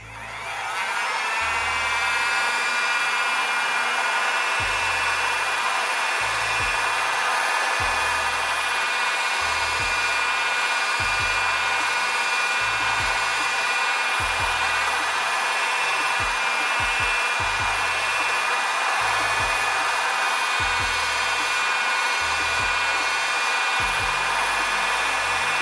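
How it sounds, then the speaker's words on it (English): Heat gun blowing hot air to soften the screen glue on a Xiaomi Redmi Note 12S phone, a steady loud whine and rush throughout, with faint intermittent low thumps beneath. "which we did with the heat gun, so we can use again a little bit more heat."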